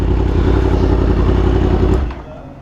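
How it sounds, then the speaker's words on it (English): A Honda Fireblade Triple R superbike engine runs hard on a dyno, a loud, close, sustained roar that cuts off sharply about two seconds in, leaving a quieter fading idle. "that's the Honda Fireblade Triple R on the dyno"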